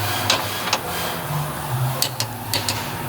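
A torque wrench clicks sharply while tightening the control arm bolts on a Toyota GR86, with several distinct clicks spaced apart over a steady low background hum.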